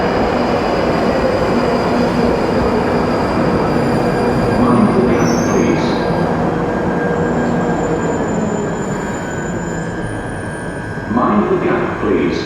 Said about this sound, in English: here's another train for Morden